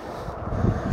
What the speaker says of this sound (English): Oh, it's so windy. It's so windy.